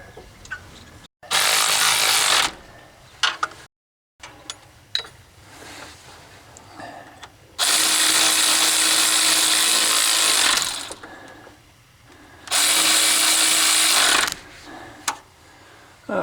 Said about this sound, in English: I can take my electric ratchet wrench and 11/16 on the back bolt here